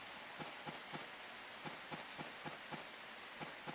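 Rain in the Harvest Moon DS video game falls as a soft, constant hiss, with faint droplet taps at a regular beat and no one talking.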